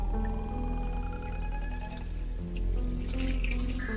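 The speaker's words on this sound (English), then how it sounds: "I am going to add this hot water to it now." Hot water is poured into a pot of winter warmer soup, a steady, close splashing flow that continues throughout without speech.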